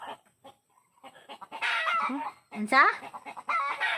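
Chickens clucking and calling near a home, with short squawks and a louder drawn-out cackle mixed in, while people talk nearby.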